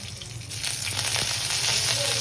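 Cumin seeds splutter in hot oil while cooking the filling for bread samosa snacks, a steady close sizzle and crackle that builds slightly and holds throughout.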